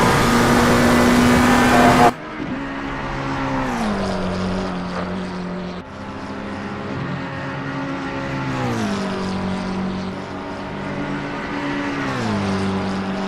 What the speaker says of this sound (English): he's got a pretty loud engine on the inside there